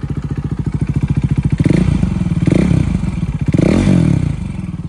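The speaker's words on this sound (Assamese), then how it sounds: "তো আপোনালোকে কিন্তু ইঞ্জিনৰ চাউণ্ডটো অলপ পাব" KTM RC 390 motorcycle engine idling close by with a steady rapid pulsing beat, then revved in two short bursts that swell louder before settling back to idle.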